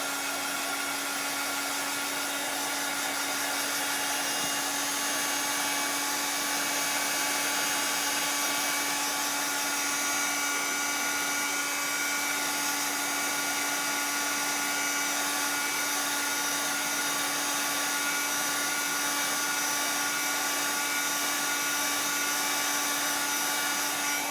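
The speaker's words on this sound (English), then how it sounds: "I'm gonna run this dryer on here real quick." A hair dryer blows in a loud, steady whir with a constant high hum, running without pause and no voices.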